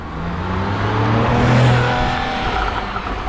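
A Porsche 911 991 engine revving during a test drive, a loud throaty roar that swells toward the middle and then settles, close and with no talking.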